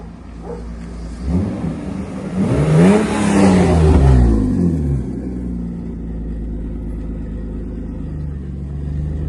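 A car engine revs up as the vehicle starts off, its pitch climbing and falling in a loud rising roar before settling into a steady lower rumble.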